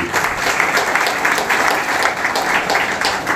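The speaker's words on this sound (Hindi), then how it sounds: "आप ताली से दीपक जला दीजिए।" An audience at a memorial ceremony, gathered while the chief guest lights a lamp, applauds in a dense, continuous burst of many hands, loud and sustained throughout.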